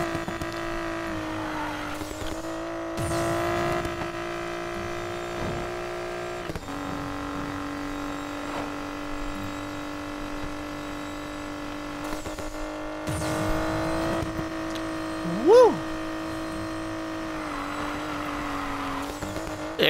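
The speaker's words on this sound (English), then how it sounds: "It sounded like it was winding up there for a second, like a supercharger in it or something." A Nissan Skyline R32 in the Need for Speed Payback game drones steadily at a sustained engine pitch, its tone shifting and briefly winding up higher partway through, with faint tire squeal.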